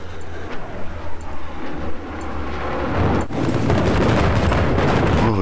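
A frag grenade blast in Battlefield 4 lands mid-match, a loud broad boom that swells and then sustains as a rumbling roar over ongoing game noise, with no voices.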